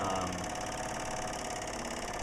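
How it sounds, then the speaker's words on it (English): A propane-fueled flywheel engine runs steadily close by, with a continuous mechanical chug and knock and no voices. "This is the most efficient engine"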